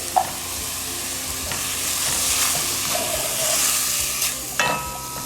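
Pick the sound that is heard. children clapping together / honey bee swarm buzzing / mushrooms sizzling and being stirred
mushrooms sizzling and being stirred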